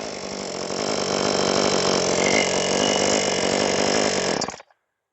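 A Sportsman chainsaw with a 20-inch bar, fresh out of the box, runs loud and close with a steady revving engine drone for over four seconds, then cuts out abruptly into silence.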